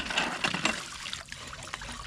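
Water flows steadily from a well pump drawing on a drilled well about 75 feet deep, a soft continuous splashing trickle heard close by and alone for a couple of seconds.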